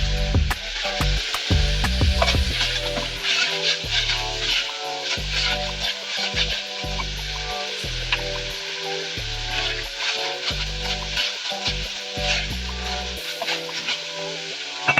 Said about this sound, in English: frying the onions on very high heat